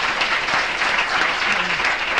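Dense, steady audience applause thanking Slavoj Zizek at a lecture, a continuous roar of many hands clapping at even loudness throughout.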